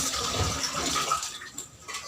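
One cup of water pours into a pot on the fire for custard jelly, a close, continuous splashing gush that tapers off after about a second and a half.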